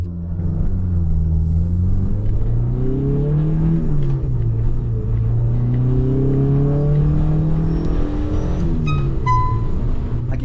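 An MG Maestro 1600 car engine revs up close, its pitch climbing through the gears with a drop at each shift, a steady loud drone throughout.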